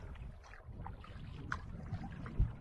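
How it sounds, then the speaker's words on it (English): A canoe is paddled through windy open water, with soft irregular paddle strokes and water swishes beneath a constant rumble of wind buffeting the microphone, fairly faint overall. "Now we're paddling in some pretty decent wind."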